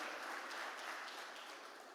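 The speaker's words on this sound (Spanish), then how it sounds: "Dele el aplauso al Señor." A church congregation claps together during a sermon in a brief, faint, steady patter of applause with no voices over it.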